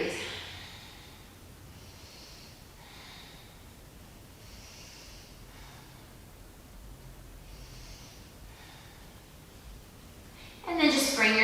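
Slow, deep breaths during a wall yoga spinal balance pose: soft, faint inhales and exhales repeating every couple of seconds over quiet room noise, ending with a sudden louder burst.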